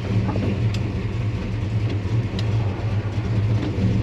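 A V8 with two Edelbrock VRS-4150 carburetors on a tunnel ram intake idles smoothly with a steady low rumble, close and continuous with no one talking.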